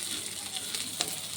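Shrimp frying in oil in a wok, a steady broadband sizzle with a faint clink or stir near the end; close and moderately loud, no voices.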